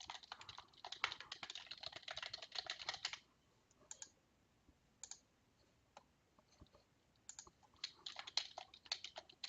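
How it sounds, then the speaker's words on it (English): Quick, steady typing on a computer keyboard as an email address is entered, dense clicking bursts at the start and end with a few isolated keystrokes in a quieter middle stretch, close and fairly faint. "type in your email address"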